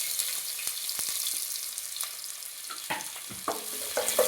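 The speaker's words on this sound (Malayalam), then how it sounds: "കട്ട് ചെയ്ത സവോള ഇട്ട് കൊടുക്കാം." Chopped onions dropped into hot oil after mustard seeds have popped, for a quick dal curry, give a steady close hiss of frying with a few louder crackles and stirring knocks toward the end.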